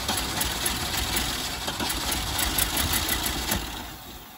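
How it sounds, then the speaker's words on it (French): Citroën C6 engine with an ignition fault running rough on four cylinders, a steady close idle with an uneven, lumpy pulse throughout and no talk. "Là, clairement, tu tournes sur 4 cylindres"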